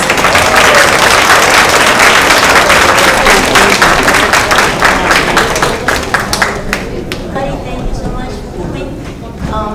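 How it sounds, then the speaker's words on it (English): Loud, dense audience applause at a Chinese festival performance day, a crowd clapping steadily for several seconds before it thins out and fades into scattered claps and room noise. "Let's welcome, give them a big applause"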